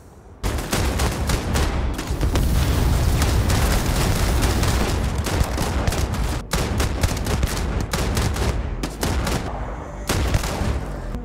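Rapid bursts of gunfire in the video game Starfield, loud, dense volleys firing almost continuously with brief gaps, close and alone without talking.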